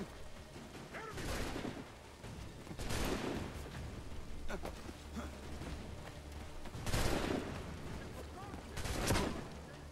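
Gunfire in Assassin's Creed 3, a few loud bursts and shots spread across the stretch with a constant rumble of game noise and voices underneath.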